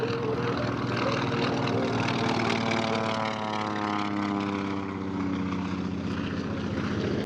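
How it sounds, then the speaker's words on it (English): A P-47 Thunderbolt warbird makes a loud, close pass at the Bremerton air show, its propeller engine droning steadily with harmonics falling in pitch as it goes by, and a faint voice underneath. "Look at the bottom side this time of our P-47 Thunderbolt."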